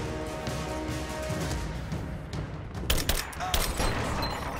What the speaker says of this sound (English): I got an automatic rifle